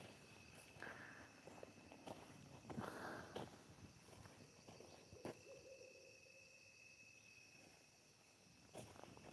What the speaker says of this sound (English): I hear that owl in the background. Sounds amazing.